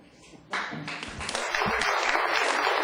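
Audience applause breaks out at a board meeting, starting abruptly and building into sustained, fairly loud clapping that carries on without pause.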